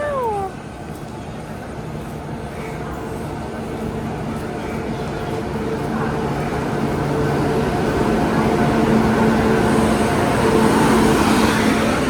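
A train's low rumble steadily swells as it pulls into a small-town station in rural India, preceded by a brief high squeal, with station ambience around it.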